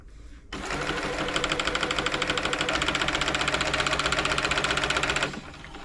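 An Elna Club Computer 500 sewing machine runs briefly after servicing, a loud, close, rapid clunky stitching rhythm that starts abruptly and stops about five seconds later, with no talking.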